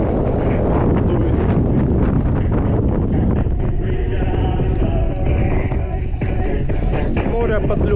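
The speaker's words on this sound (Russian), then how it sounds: "С моря подлюка дует ветер." Strong wind blowing in off the sea on a coastal route in Crimea, a loud continuous rush buffeting the microphone throughout, with faint voices barely audible beneath the roar.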